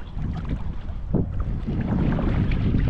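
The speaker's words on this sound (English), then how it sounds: "Nothing major, just the wind." Steady wind buffeting the microphone beside a reservoir in Ireland, a continuous low rumbling roar with no voices, holding at a constant strength throughout.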